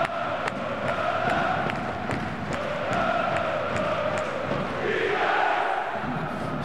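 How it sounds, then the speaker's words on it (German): A stadium crowd at a Kickers Offenbach vs FC 08 Homburg football match celebrates with sustained cheering and chanting that rises and falls in waves, filling the whole stretch. "Und natürlich wird jetzt gefeiert hier im Stadion."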